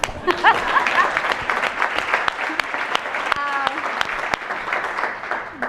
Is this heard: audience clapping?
yes